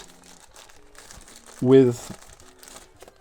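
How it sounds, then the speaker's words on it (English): A soft-touch plastic bag is crinkled once in a short, close burst while unpacking an Honor MagicBook 15 laptop, with someone talking just before and after. "in the box, we also have a nice soft touch plastic bag"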